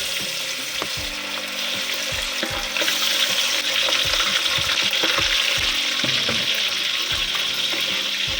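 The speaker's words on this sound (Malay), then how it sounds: "Lanjut kita goreng sehingga habis" Chicken liver sizzles and crackles steadily in hot oil, with occasional stirring scrapes and clinks over the constant frying hiss.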